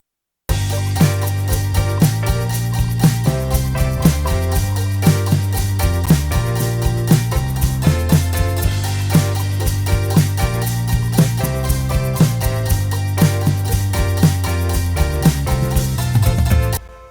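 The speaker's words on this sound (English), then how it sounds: "here's my mix with a few instances being helped along by Lofi Vintage Clipper" A punchy instrumental music mix with steady kick and snare hits, sounding thick and slightly gritty from drums saturated and clipped by the Nembrini Audio Lofi Vintage Clipper plugin.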